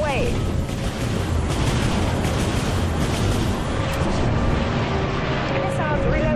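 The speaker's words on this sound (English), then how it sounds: "Okay, let's do some missiles. Missiles away." Missile salvo fired from a battleship in the Dreadnought game, a dense continuous roar of launches and booming blasts with crackling gunfire-like bursts throughout, loud and close, alongside game voice chatter.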